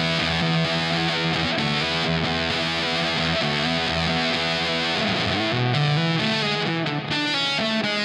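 A distorted electric guitar plays a continuous melodic lick with heavy fuzz, dense and loud throughout with sustained notes and slides.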